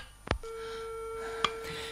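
A click is followed by a steady electronic telephone tone that holds alone for over a second in a mid-1940s radio crime play, with a second sharp click partway through.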